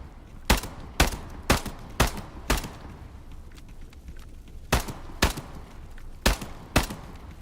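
Repeated gunfire in the VR survival shooter Into The Radius 2, sharp loud shots in two bursts of about five with a short lull between, over a low steady background rumble.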